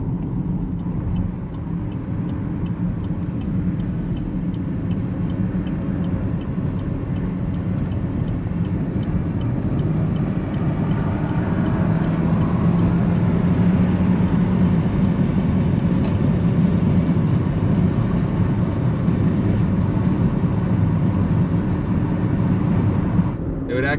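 A 2019 GMC Terrain with a 1.5L turbo engine on a test ride, heard from inside as a steady, loud road and engine drone with low rumble throughout and no clear changes.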